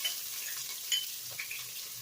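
Onions sizzle softly in olive oil in a pan, a steady quiet frying hiss with faint stirring clicks and no talking.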